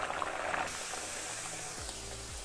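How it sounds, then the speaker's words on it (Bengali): Stuffed fish kachuri hit hot oil in a pan and bubble with a dense, even hiss that stays loud and steady throughout, with no voices. "গরম তেলের মধ্যে কচুরি দিয়ে ভাজবো।"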